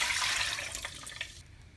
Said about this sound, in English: I'm going to drain this fat